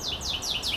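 Several birds at a zoo call in a quick series of descending chirps, about four repeated calls in under a second, close and clear with no talking.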